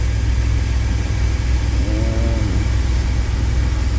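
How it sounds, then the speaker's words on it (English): A 2000 Chevy Astro engine with a crank-but-no-start and stalling fault idles at about 830 RPM, a loud, steady low rumble with an even, unchanging hum up close and no talk. "Engine is running about 830 RPMs."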